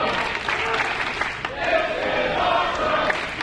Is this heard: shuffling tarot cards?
no